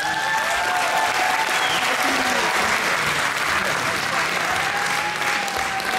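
Sustained applause from the audience at a masters over-40 bodybuilding final, loud and continuous, with a voice faintly audible over the clapping and crowd noise.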